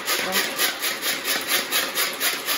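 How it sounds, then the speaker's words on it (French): Garlic and capers are chopped in a kitchen chopper, a loud, rapid rhythmic scraping and whirring that pulses about five times a second, close and alone. "je vais hacher en petits morceaux, fin"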